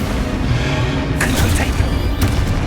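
Spell-casting explosions in Hogwarts Legacy, a few muffled booms and bursts over a dense, continuous game soundscape, fairly loud and with no talk.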